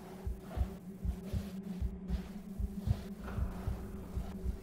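A heartbeat in the Among the Sleep horror game thumps out as a steady, low, muffled double pulse, about two beats a second over a faint hum, with no talk.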